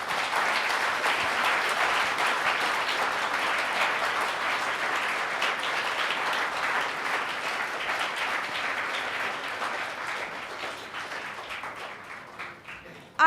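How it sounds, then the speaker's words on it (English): Sustained applause from a sizeable audience at a school talk, steady dense clapping that carries on for many seconds before tapering off slightly at the end. "please give a huge round of applause for her."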